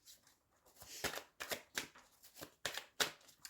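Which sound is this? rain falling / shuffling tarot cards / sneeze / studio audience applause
shuffling tarot cards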